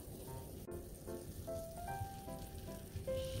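Kangaroo meat frying in a pan gives off a steady, close sizzle with crackling spatter that runs the whole time, with no talk.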